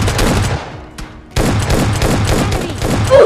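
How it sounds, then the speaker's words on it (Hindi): Rapid automatic gunfire in the online shooter PUBG Lite rattles out in loud bursts near a vehicle, stopping briefly before resuming as a dense, continuous volley. "अब भाई ये पता नहीं कैसे लैग हो जाता और गाड़ी पे ही गोली चल जाती है।"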